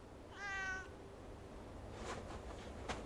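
A tomcat gives one clear, drawn-out meow near the start, followed by softer scuffling and faint noises against a quiet indoor background.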